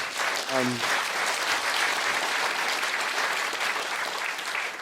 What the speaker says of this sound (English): That round of applause, by the way.